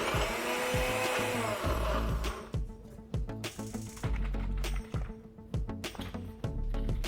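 A kitchen blender pulsing thick set yogurt for an Arabic kabsa sauce, loud and close: a long first whir, then several short, choppy bursts with brief pauses between them.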